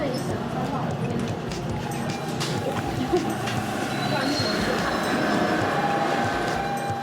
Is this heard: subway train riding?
yes